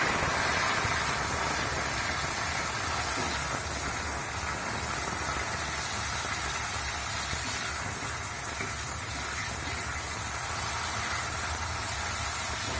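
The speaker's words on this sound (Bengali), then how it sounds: "টমেটোটা একটু ভাজা হবে" Chopped tomato sizzling in leftover hot oil from frying paneer for palak paneer, a steady, loud broadband hiss and crackle that continues without pause, with no talking.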